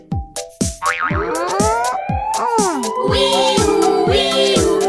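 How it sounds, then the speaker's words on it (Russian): A toy fire truck siren wails in a rising and falling electronic tone after a few springy boing sounds, loud and close, playing continuously. "Это сирена, посмотри."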